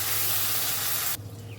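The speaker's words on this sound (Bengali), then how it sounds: "পাঁচফোড়নটা আর লঙ্কাটা ফ্রাই হয়ে গেছে, এবার দিয়ে দিলাম 2 টেবিল চামচ মতো আদা বাটা।" Ginger paste hits hot oil already frying dried red chillies and panch phoron, giving a steady, loud broadband sizzle and hiss that drops sharply in level partway through, then settles into a quieter, continuing fry.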